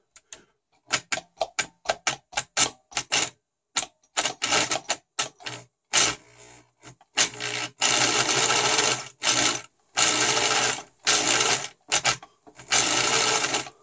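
Singer 756 Touch & Sew sewing machine running fast, its needle clatter coming in bursts: short rapid runs at first, then longer sustained stretches of loud, close, whirring chatter with brief pauses between.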